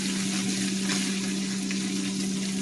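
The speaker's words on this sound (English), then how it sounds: "you want to get your ground meat browned, but not burned" Ground meat browning in a pan for walking tacos, a steady close sizzle and crackle with a few soft scrapes of stirring, no voices.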